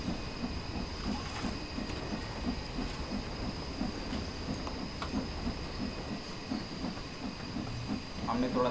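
A British steam locomotive hauling a train at low speed gives a steady hiss with a faint rhythmic chugging and rail clatter throughout, moderately loud and continuous.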